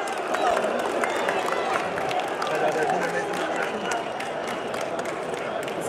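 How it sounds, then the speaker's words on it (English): A football match crowd at Arsenal versus Manchester United keeps up a steady roar and murmur of cheering and chanting, loud and dense throughout with no clear peaks. "as the crowd starts to cheer"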